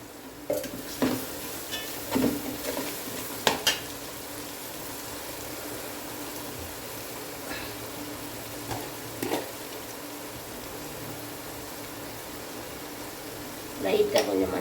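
Food tossed and fried in a pan with ground mandi masala powder for an Arabian mandi biryani: a soft continuous sizzle with scattered scraping stir strokes and clinks, moderately quiet and steady, louder clatter near the end.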